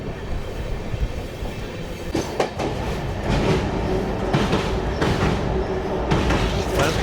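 The Tirupati to Sai Nagar Shirdi weekly express runs near Nellore with a steady rumble and rhythmic clickety-clack of wheels on the rails, a loud carriage interior sound, and a voice talking faintly over it.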